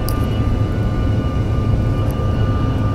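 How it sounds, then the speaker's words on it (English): An airliner on a runway in Canada gives a steady, loud engine roar from inside the cabin as it prepares for takeoff, with no talking. "We got a long line of planes waiting to take off."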